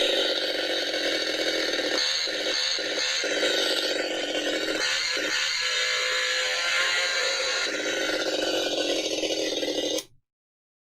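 A replica 1970s Texas Chainsaw Massacre prop chainsaw runs with a constant loud mechanical rattle and buzz, close up, with a few brief ratcheting dips before it cuts off abruptly near the end.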